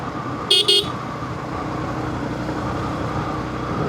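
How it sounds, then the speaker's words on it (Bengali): A car horn on a mountain road turn gives two short, close beeps over a steady engine and road hum from inside the moving car. "টার্নিংয়ে অপোজিট থেকে যে আসবে সে হর্ন দিবেই না, এটা আপনাকেই দিতে হবে"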